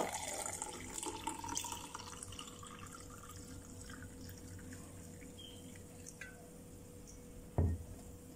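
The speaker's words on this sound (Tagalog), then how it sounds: "ilagay sa baso, tapos lagyan ng tubig." Tap water runs steadily into a glass while a beauty drink is mixed, a soft continuous pour with faint drips and a brief louder knock near the end.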